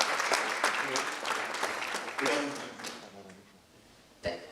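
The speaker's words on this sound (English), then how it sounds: "Let's give another round of applause to our honorable." Applause from a crowd at a leadership media launch event, steady clapping that gradually thins and fades, with a brief burst near the end.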